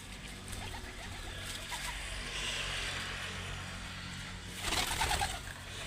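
Pigeons coo softly in a continuous murmur amid a busy, noisy background, with a brief louder burst near the end.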